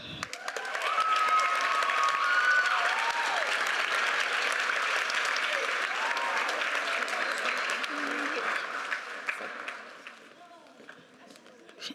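A middle school spring band concert audience gives sustained applause for an eighth-grade flute soloist after her solo, with dense hall-wide clapping that holds steady, then thins and fades near the end.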